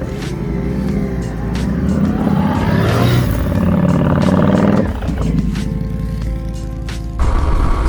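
Motorcycles on a Black Hills trip ride along an open road in South Dakota, their engines a loud, close, continuous roar with wind rushing past, shifting in pitch as the bikes change gears.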